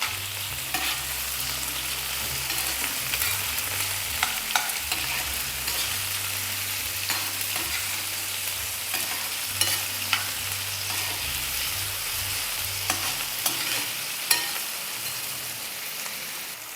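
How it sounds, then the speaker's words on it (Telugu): Tomato pieces frying in a pan for a prawn curry, a steady close sizzle with occasional stirring scrapes and clicks throughout, no talking. "వీటిని కూడా మనం ఫ్రై చేసుకోవాలి."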